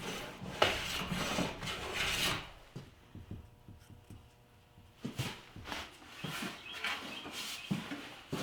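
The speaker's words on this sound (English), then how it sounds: "I'll use a sanding block to add a slight chamfer on the ends of the mortises" Sanding block rubbing over the ends of through mortises in a wooden farmhouse bench to chamfer them, giving repeated close rasping strokes in bursts with a quieter pause in the middle.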